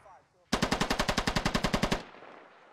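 A medium machine gun fires in the video game Squad, one loud, rapid sustained burst of about sixteen evenly spaced shots lasting roughly a second and a half, followed by a fading echo.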